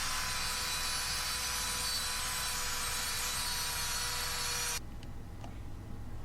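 A steady, loud grinding or cutting of metal on a motorized bicycle build runs for several seconds, then stops abruptly, leaving a quiet room with a couple of faint clicks.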